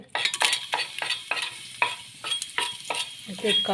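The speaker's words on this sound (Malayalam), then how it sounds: "തക്കോലെല്ലാം ഇട്ട് കൊടുക്കുന്നുണ്ട് ഇതിനകത്തോട്ട്" Star anise frying in a pot of oil for a meat rice dish, stirred with quick repeated scraping strokes about three per second over a bubbling sizzle, close and moderately loud.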